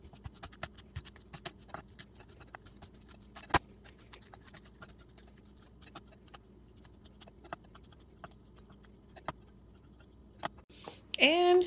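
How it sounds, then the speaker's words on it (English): Chives being cut with a knife or scissors, close by, in rapid, fine, crisp clicks and snips spread across the whole stretch. "Let's cut up our chives."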